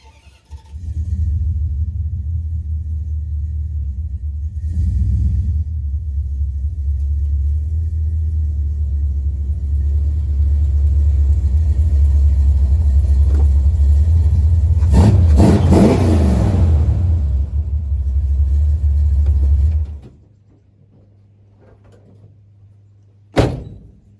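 A 1977 Dodge D200 pickup's engine, untuned and leaking coolant, runs with a heavy low rumble, climbs into a strong rev near the middle, then cuts to a quiet idle before a final sharp clunk.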